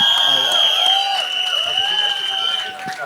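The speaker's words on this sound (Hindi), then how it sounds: "जोरदार तालियां उनके लिए।" A crowd at an event cheers and whoops for Paresh Rawal, a loud continuous roar of voices with sustained tonal shouts over the top, fading slightly toward the end.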